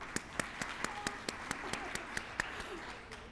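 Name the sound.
audience applause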